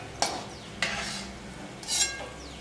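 Cashews frying in hot oil in a pan while being stirred, with a steady soft sizzle broken by a few scraping strokes of a spoon or ladle.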